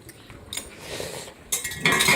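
A metal whisk clinks and scrapes against pots sitting in boiling water while yogurt is being made, with several bright clattering bursts of varying loudness and a soft bubbling wash beneath.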